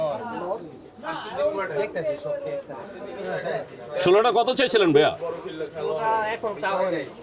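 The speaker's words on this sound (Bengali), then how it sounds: "বন্ধুরা দেখছেন এই যে এখানে ভাইয়া 2 খাঁচা কবুতর এসেছে" Two cages of pigeons at the Saruliya pigeon market in Bangladesh coo softly and steadily under men's close conversation.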